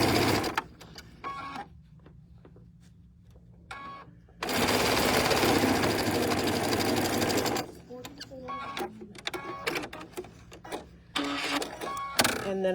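A sewing machine stitches a quilt block seam down the right side, a few short bursts of stitching before one loud, steady three-second run, with a voice talking in between.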